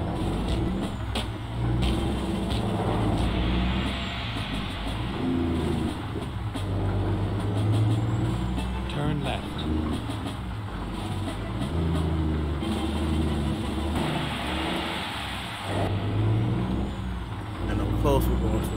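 A big rig rolls down the highway in American Truck Simulator as a FedEx Freight road driver, with a steady low engine drone and road rumble throughout and occasional higher mechanical tones over it.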